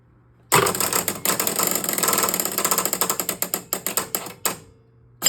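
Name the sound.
electromechanical pinball machine spinning out lane spinner and pulsing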